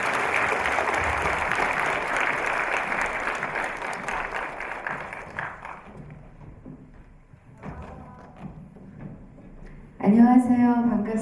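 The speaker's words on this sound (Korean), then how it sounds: "여러분 환영의 박수 부탁드리겠습니다." Audience applause at a lecture-concert talk show, loud and dense for about six seconds as guests come on stage, then fading into scattered claps and murmurs before a voice speaks near the end.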